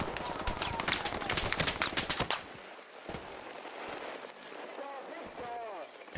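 Machine gun fire in the Hell Let Loose WWII game, a rapid run of sharp shots at the start, then quieter scattered fire further off with a voice talking over it.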